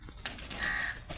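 Pigeons outdoors near a house garden give a short, faint bird call or two, with a brief flutter-like rustle over light background noise.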